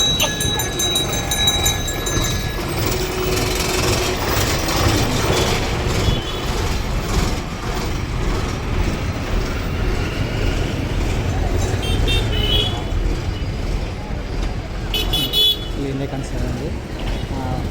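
Busy bus stand in Sandur with a bus and other traffic rumbling close by, a horn tooting near the start and again briefly later, over constant engine noise and people talking.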